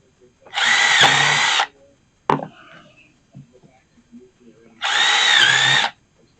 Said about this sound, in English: I'm going to countersink 3 holes in this, one on each end and one in the middle